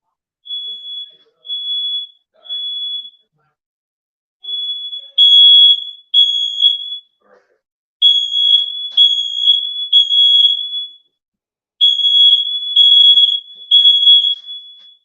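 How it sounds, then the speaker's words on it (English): During a fire alarm test, a shrill, high-pitched alarm sounds in short bursts of steady tone, then in longer repeated stretches of pulsing beeps. It is loud and near, with brief gaps of silence. "Hey, we got to do some fire alarm testing."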